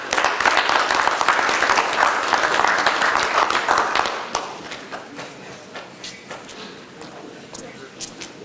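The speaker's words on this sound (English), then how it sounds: "We give them a hand clap as they come forward" Hand clapping at a city council meeting, a loud group clap that thins after a few seconds into scattered individual claps, with footsteps and thumps as people come forward.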